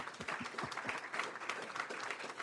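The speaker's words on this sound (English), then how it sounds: "Let's give them a round of applause." A city council meeting audience gives a round of applause, a soft, steady patter of many hands heard from a distance, fairly faint and continuous throughout.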